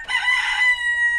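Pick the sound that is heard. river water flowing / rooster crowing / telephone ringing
rooster crowing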